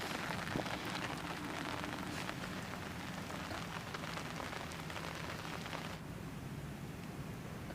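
Steady rain falls at an earthen fishing pond, a dense close hiss of drops on surfaces that stays constant and then softens slightly near the end, with no voices.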